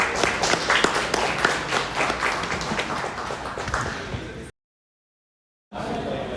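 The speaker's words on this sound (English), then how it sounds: "Give another round of applause for our finalists" A crowd applauds with dense, steady clapping that fills the space, cut off abruptly by a second of silence before the clapping resumes.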